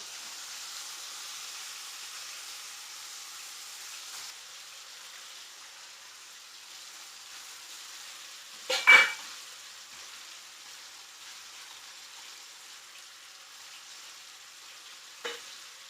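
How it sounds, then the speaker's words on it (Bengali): Spices frying lightly in oil for a Bengali potato curry, a faint steady sizzle running throughout with a sharp louder crackle burst midway and a brief spit near the end. "হালকা হালকা ভাজা হয়েছে মশলাটা দিয়ে দিচ্ছি"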